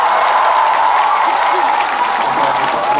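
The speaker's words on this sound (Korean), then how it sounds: "역시 박수 치는 게 다른 지역이랑 다른 것 같아요" A large crowd at the Punggi ginseng festival concert claps in a loud, steady wall of applause lasting a few seconds, with a voice faintly underneath.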